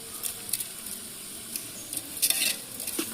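Vegetables sauté with coarse salt in a large pot, a low continuous sizzle broken by stirring scrapes and light metal clinks.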